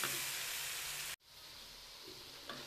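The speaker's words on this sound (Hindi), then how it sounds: "तो बस हम इस मसाले को अच्छे से यहाँ पर जो है वो भून लेंगे।" Spice masala with red chillies roasting in a pan for a village-style taramira saag, giving a steady soft sizzle that breaks off abruptly for a moment, then resumes quieter with a couple of faint clinks.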